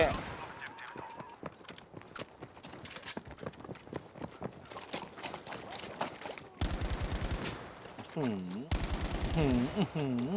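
Rapid bursts of gunfire in a Battlefield V match, dense cracking shots in quick succession with some louder, closer volleys later on, against a busy game soundscape.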